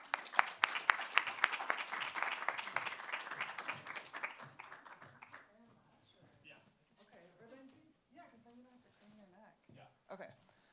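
An audience applauds to welcome two speakers at an environmental justice talk, a dense burst of clapping that fades out after about five seconds before people begin speaking softly nearby.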